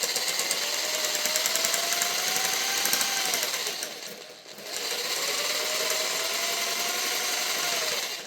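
A jigsaw fitted with a hacksaw-like blade cuts through the pickguard of a 1995 Korean Squier Stratocaster. It makes a loud, steady buzzing whine that dips briefly midway, then resumes and runs until the cut ends.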